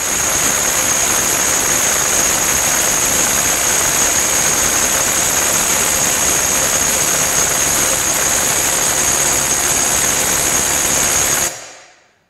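A DeWalt DCF860 impact driver powered by an 8 amp-hour XR PowerPack battery runs continuously with a loud, close, steady whirring drone, then shuts off abruptly near the end and the sound cuts to silence.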